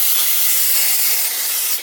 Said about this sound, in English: I'm just gonna spray the bottom of this and then put all of the batter inside